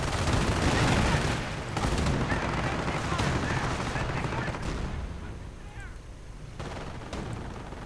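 Machine gun and rifle fire crackle through a World War II strategy video game battle, with a dense, continuous stream of shots and bursts, fairly loud, under a faint voice.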